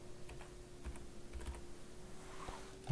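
Quiet typing on a computer keyboard: a few soft, scattered keystrokes, close but faint, against a low background hum, with no talk.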